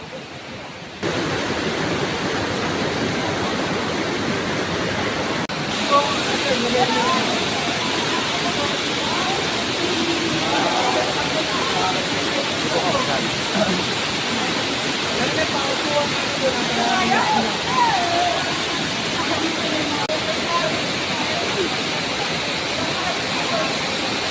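Kilangin Falls in Liliw, Laguna pours steadily as a broad, constant roar of rushing water from start to finish, with faint voices and splashing blended into the wash.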